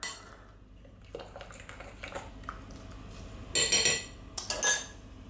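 Stirring a potato galette mixture in a bowl, quiet scraping followed by a few louder clinks and rattles of a utensil against the bowl near the end, close up.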